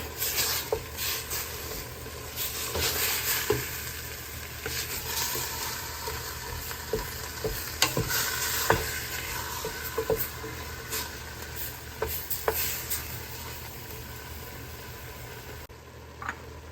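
Meat filling for shepherd's pie with Worcestershire sauce sizzling in a pan as it is stirred, a continuous close frying hiss broken by scattered clicks and scrapes of the utensil, no talking.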